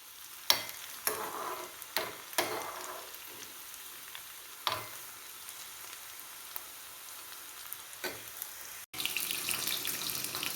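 Onions and oil crackle and sizzle in a pan, broken by sharp scrapes and clinks of a stirring spoon, with a brief burst of louder hissing at the end.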